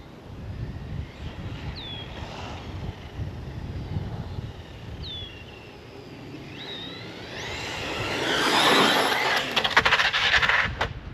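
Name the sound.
model aircraft engine at full throttle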